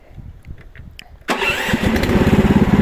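A Toytraktor mini loader's small engine starts up abruptly after a few quiet knocks, then runs at low idle with a loud, even, pulsing putter close by.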